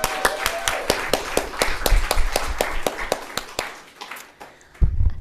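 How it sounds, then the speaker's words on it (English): Applause from an audience at an Encampment for Citizenship event: sharp, evenly spaced claps, fairly close, repeating steadily for several seconds before fading out. "Another round of applause, please."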